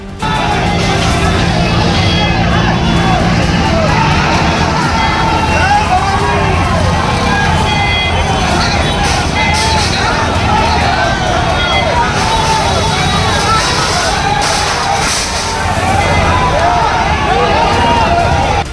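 A large crowd of protesters gathered outside an MP's residence in Agra, heard as a dense, continuous roar of shouting voices and babble. Traffic-like noise sits underneath, and the din stays loud and steady throughout.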